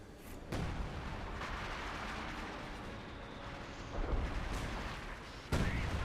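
Howitzer artillery firing in the Company of Heroes 2 real-time strategy game, with several sharp booming blasts at about half a second, 4 seconds and 5.5 seconds over a steady loud background of battle noise.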